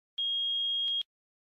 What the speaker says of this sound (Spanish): Si el multímetro marca 1 y emite un pitido